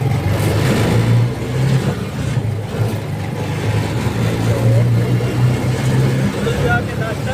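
A car pulls away and drives off toward a shop, its engine loud and close as it revs and accelerates. A voice can be heard talking over the engine noise.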